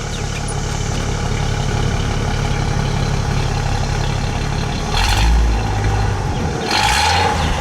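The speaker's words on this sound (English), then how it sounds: "And let's give it a little rev." A 1962 Ford Galaxie police squad car with a single exhaust idles steadily close by, then gets two short revs that swell and fall back to idle.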